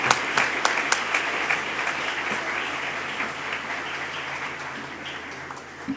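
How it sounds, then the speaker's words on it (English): A big round of audience applause at a student parliament session during an international spring colloquium, with a few sharp individual claps up front, then dense steady clapping that gradually thins toward the end. "I want to ask for a big applause for all those people that are doing all this big effort to make this possible."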